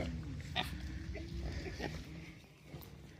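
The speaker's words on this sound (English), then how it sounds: "He's a mix of Cooney and American Guinea Hog." A Cooney and American Guinea Hog mix pig, a castrated male, eats outdoors on a farm with soft grunts and chewing noises close by, over steady low rumbling background noise.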